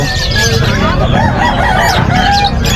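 A loud crowd of chickens clucks and squawks close by, with a rooster crowing amid the noisy, bustling background of a busy poultry market that also sells turkeys and geese.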